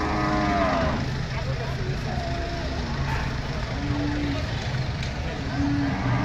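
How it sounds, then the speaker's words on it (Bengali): Nepali cattle at a livestock market in Manikganj, Bangladesh, moo several times at close range over busy crowd chatter and background traffic. "এক জাক নেপালি গরু যাইতেছে"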